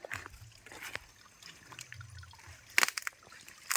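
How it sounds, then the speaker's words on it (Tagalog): Water trickles quietly from a natural mountain spring near a stream, a soft, steady dribble with a few sharper splashes and gurgles outdoors. "This is the nature spring."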